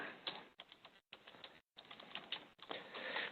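Bursts of quick, light key clicks on a computer keyboard, fairly faint, broken by short pauses.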